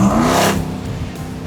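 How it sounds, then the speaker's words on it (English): A twin-turbo supercharged Ram Hellcat-engined truck accelerates hard nearby, a loud engine roar with a rising high whine over it, then settling into a steady drone. "It's super cool to hear the turbos above the supercharger whine."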